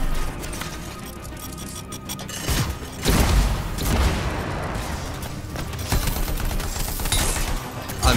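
Sustained gunfire in Anthem, including sniper shots against shielded enemies: dense, overlapping bursts and booms throughout, with louder surges partway through and mechanical clatter underneath.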